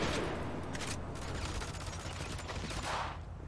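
Gunfire during a Grand Theft Auto V shootout: a dense, continuous roar of overlapping shots and blasts, loud and sustained for about three seconds.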